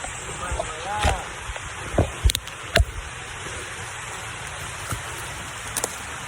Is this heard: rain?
yes